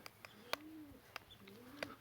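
Soft, low pigeon cooing rises and falls twice, with a few sharp clicks and faint chirps around it, fairly close and quiet.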